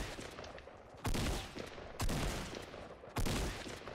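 Three loud shotgun blasts go off in the Fortnite battle royale game, about one second apart, each a sharp boom with a decaying tail. Gameplay noise continues between the shots.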